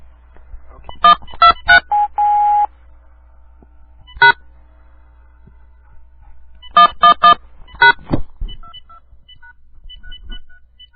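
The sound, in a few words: telephone number being dialed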